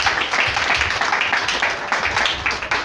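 A church congregation claps together in a rapid, even rhythm, close and lively, with no voices over it.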